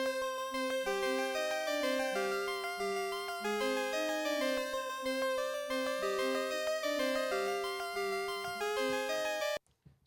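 A layered synth tagline built from three synthesizers, including a Prophet 600, with stacked sustained chords and a moving melodic line. It plays steadily and fairly loud for about nine seconds, then cuts off abruptly.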